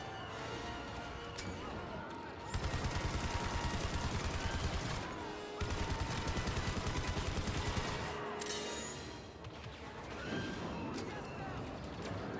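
Rapid automatic gunfire rattles in loud sustained bursts from the Star Wars: Resurrection video game, separated by brief gaps, with other game sounds between bursts.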